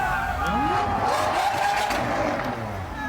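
A Lamborghini accelerating on a street, its engine note rising and sweeping upward as it revs past, loud and close, with people talking over it.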